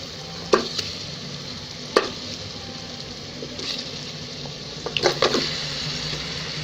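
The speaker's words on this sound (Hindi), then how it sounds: "मसालों को डालकर अच्छी तरीके से भून लें।" Beef trotters (paya) frying with spices in a pot, a steady soft sizzle broken by a few sharp clinks and scraping stirs, close and without speech.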